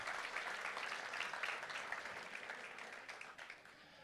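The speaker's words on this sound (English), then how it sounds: "Let's give her a round of applause." An audience at an elementary school award ceremony claps in a steady, even wash of applause that fades slightly over a few seconds, faint and distant-sounding, with no voices over it.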